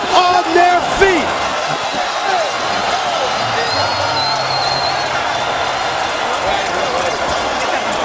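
A boxing arena crowd roars and rises to its feet, a loud, dense, sustained din of cheering and shouting. An excited commentator talks over it near the start.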